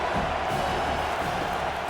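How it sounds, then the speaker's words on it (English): A packed college football stadium crowd at an Ohio State versus Penn State game roars on a 3rd and short, a thick continuous wall of cheering at steady volume. "Crowd trying to deliver some energy on 3rd and short."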